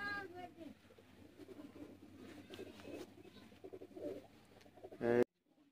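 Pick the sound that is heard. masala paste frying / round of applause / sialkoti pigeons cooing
sialkoti pigeons cooing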